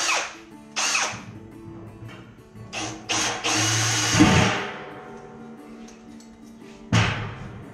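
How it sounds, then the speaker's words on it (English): A power drill bores a center hole for a ranch feeder build, with short bursts of whirring and a longer sustained run of grinding drilling, plus thumps of handling, close by and without speech. "now that I have my center hole drilled"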